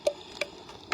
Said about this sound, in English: You can probably hear the raindrops hitting the casing now.